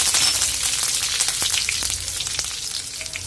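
Crushed garlic, cumin seeds and curry leaves fry in hot oil for a Solapur-style amti, giving a close, steady sizzle with scattered sharp crackles and pops.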